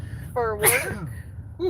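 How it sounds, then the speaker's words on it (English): A single forceful sneeze on a live stream bursts out sharply and close, with a quick inhale just before it, surrounded by casual talk and a short exclamation afterward. "That sneeze is powerful."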